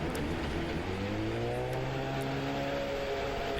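A gasoline engine revs steadily higher, its pitch climbing in smooth harmonic sweeps, loud and close with a continuous rough roar underneath and no talk.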